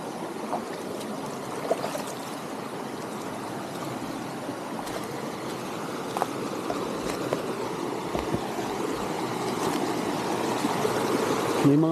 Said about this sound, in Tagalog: Batis.